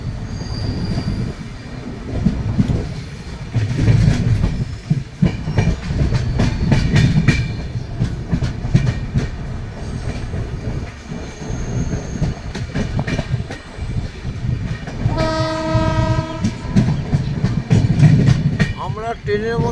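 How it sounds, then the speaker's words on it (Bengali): Inside a train pulling out of New Mainaguri station, with a loud, steady rumble, rhythmic wheel clatter and a high squeal of wheels partway through, plus faint voices in the carriage. "আমরা ট্রেনের মধ্যে বসে আছি দর্শক, কিন্তু এই ভিডিওটা তুলছি নিউ ময়নাগুড়ি ছেড়ে যাচ্ছে"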